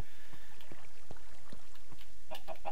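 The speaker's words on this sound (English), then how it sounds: "there's a chicken stuck up here in the corner" Chicken clucking in the video game Minecraft, inside a cave: a few short clucks spaced through the clip, ending in a quick burst of three, moderately close over low rumbling background ambience.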